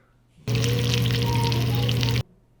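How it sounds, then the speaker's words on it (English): Steady, dense sizzling and bubbling of a 28-ounce rib steak frying hot in a pan, loud and close, starting abruptly and cutting off after about two seconds. "that's what the steak sounds like bubbling away"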